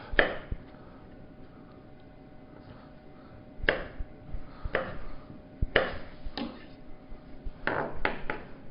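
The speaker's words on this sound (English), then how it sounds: "And then I'll cube those strips." Knife chopping strips of ham into small cubes on a cutting board, with sharp chops spaced irregularly, a few isolated hits early, then a quicker cluster of cuts toward the end, fairly close and moderately loud.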